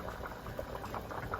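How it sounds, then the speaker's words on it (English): A pot of water at a rolling boil before rice goes in for porridge, a dense, continuous bubbling with soft pops, close and steady throughout. "This is at a rolling boil."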